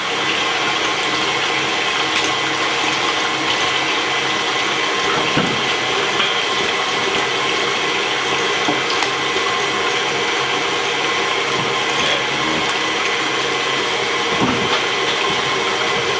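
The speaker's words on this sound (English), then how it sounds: "I'm just going to let that blend real well now." An electric mixer runs steadily, blending cinnamon roll dough made with mashed potatoes, eggs and salt, a continuous close mechanical whir with a faint grinding rattle and a few brief knocks, no talk over it.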